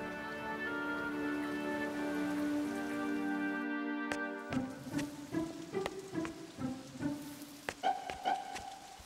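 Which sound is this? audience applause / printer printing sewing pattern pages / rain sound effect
rain sound effect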